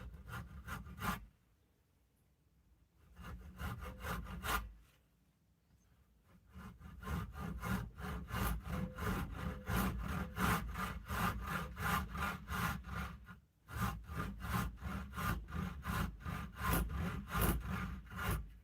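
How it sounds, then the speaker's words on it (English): A fine-toothed cross-cut hand saw cuts through wood in steady rhythmic back-and-forth strokes, close and clear, starting with a few short strokes and brief pauses, then running continuously with one short break. "I'm going to use the cross-cut saw because it's got a finer toothed edge"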